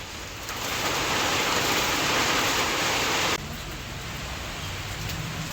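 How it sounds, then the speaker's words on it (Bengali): Heavy rain pours down during a storm at about half past one, a dense steady roar that swells loud for a few seconds and then eases to a slightly softer downpour, with no voices. "দেড়টা বাজে আর এই ঝেপে বৃষ্টি নেমেছে"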